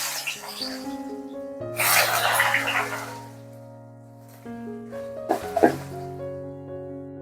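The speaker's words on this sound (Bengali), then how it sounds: "এবারে দিয়ে দিচ্ছি কুচিয়ে রাখা পেঁয়াজগুলো।" Chopped onions hit hot oil in a pan for masala chicken, giving two bursts of sizzling, a longer one early and a short one later, under steady background music.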